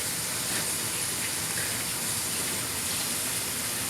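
Thick-cut HEB bacon sizzling in a pan, a steady dense hiss and crackle that stays even and close throughout, with no voices.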